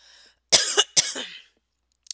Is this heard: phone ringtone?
no